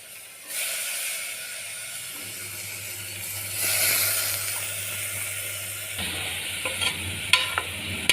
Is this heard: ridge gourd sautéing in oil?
yes